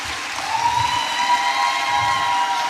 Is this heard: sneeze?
no